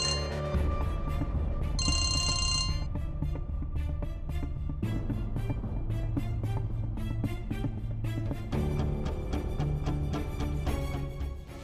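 A telephone rings repeatedly in a steady electronic pattern, loud and close, with tonal ringtone bursts continuing throughout.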